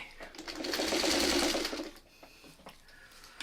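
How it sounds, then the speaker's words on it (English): A sewing machine with a quarter-inch presser foot stitches fabric for a quilt block, running in one short, whirring burst of a second or so before stopping, then a few faint clicks follow. "do like 3 or 4 stitches, stop, readjust your fabric."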